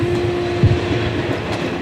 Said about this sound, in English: The first train leaves less than an hour later.